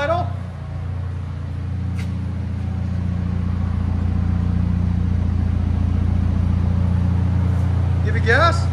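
A 2019 Volvo S60 T6 2.0L turbo with a Vibrant muffler delete idles steadily, giving a low, continuous rumble close by, with brief voices at the start and end.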